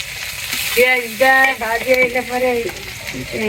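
Eggplant and potatoes frying with spices in a pan, a steady loud sizzle with stirring scrapes, partly overlaid by short tonal bursts.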